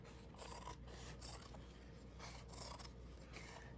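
Scissors snip through fabric while making shabby chic tassel earrings, a few close, quiet rasping cuts in a soft, steady rhythm with no talking.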